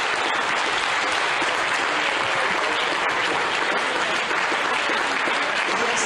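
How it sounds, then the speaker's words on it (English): Sustained applause fills NASA Mission Control during the James Webb Space Telescope launch, a dense, steady wash of clapping from a room of people that carries on without a break. "amidst applause here in the Mission Control Center"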